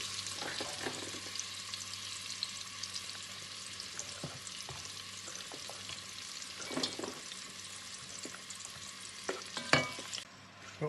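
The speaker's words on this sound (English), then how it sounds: "So all the onions have gone in the pot, and we're gonna cook them for 45 minutes on a medium heat" Onions cook in heated oil and butter in a pot for French onion soup, a steady, moderate sizzle with occasional stirring scrapes that fades out just before the end.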